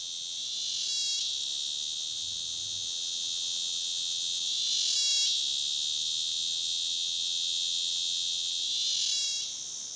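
A cicada in hot, dry, thorny Madagascar forest gives a loud, continuous high buzz that holds steady throughout, rising into three brief pulsing surges spaced a few seconds apart.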